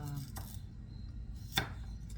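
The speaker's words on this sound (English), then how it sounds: "I'm chopping them now, chunky, because I'm gonna crush them." Food is chopped into chunks with a knife on a board for clams and linguine: a few sharp, separate knife strikes over a quiet kitchen background, with no one speaking.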